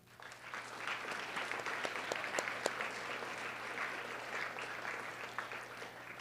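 Sustained audience applause at a spring sports banquet, steady and dense for several seconds with a few sharper claps standing out, heard from within the room.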